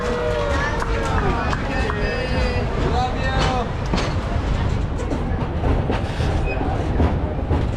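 A narrow-gauge amusement park railroad train at Busch Gardens Tampa rolls steadily along its track, a continuous running rumble with faint clatter beneath a crowd and a guide talking over the loudspeaker.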